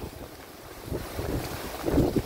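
Strong, gusty typhoon wind on a mountain roars and buffets the microphone, swelling louder toward the end, with no voices.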